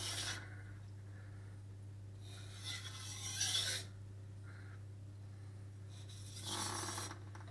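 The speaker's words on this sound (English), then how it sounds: "we've got to do our little best with this coarse stone to remove that burr" A chef knife is sharpened on a coarse whetstone, giving several separate raspy scraping strokes, close and fairly quiet, with short pauses between passes.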